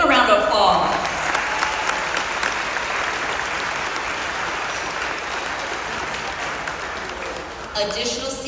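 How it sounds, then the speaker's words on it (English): Sustained applause from a middle school graduation audience in an auditorium, steady dense clapping filling the whole stretch, fading briefly near the end with some voices underneath. "let's give them a round of applause"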